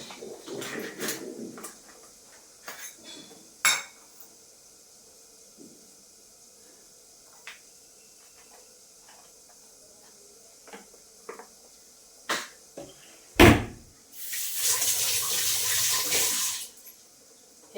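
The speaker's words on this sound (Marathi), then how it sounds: "भांडे घासून घेते आणि नंतर किचन वाटा स्वच्छ करते" Dishes are washed in a kitchen sink, with scattered clinks and short splashes giving way to a longer burst of running tap water near the end, quiet and close with no talk.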